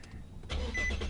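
A 2014 Infiniti Q60 coupe engine starts after a brief quiet moment, with a sudden crank that catches into a steady, fairly loud idle heard from the cabin.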